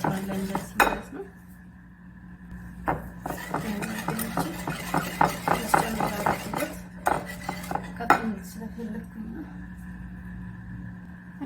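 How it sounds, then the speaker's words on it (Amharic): A metal spoon beats lemon dressing in a bowl, producing a run of rapid, rhythmic clinks and scrapes in the middle stretch, bracketed by a few louder knocks, close up in a quiet kitchen. "ሎሚ እንደዚህ እናደርግና በዚህኛው ማንኪያ በደንብ እንመታዋለን"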